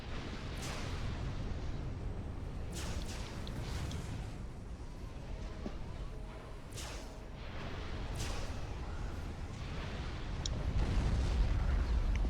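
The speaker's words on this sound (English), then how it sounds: "That missile landed, but luckily nothing was there." Tactical missiles striking and exploding in a Forged Alliance Forever match, several sharp impacts spaced a few seconds apart over a rumbling battle bed that swells louder toward the end.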